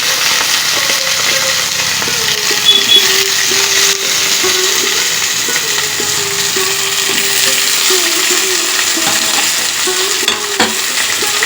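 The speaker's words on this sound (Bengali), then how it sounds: "এরপর আমি দিয়ে দেব কেটে রাখা আলু তেলের মধ্যে দিয়ে দেব" Thick, large-cut potatoes frying in hot oil, a steady dense sizzle with occasional scraping and stirring clatter, close and continuous throughout with no talk.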